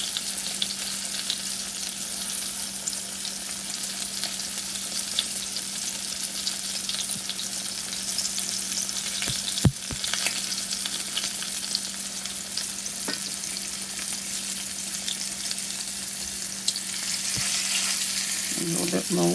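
Pork chops fry in a pan with a continuous, even sizzle and crackle, bright and close, with occasional soft clanks from a utensil.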